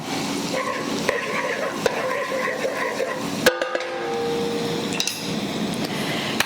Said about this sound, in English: we're just gonna cook this garlic down for about 30 seconds or so, just until it becomes fragrant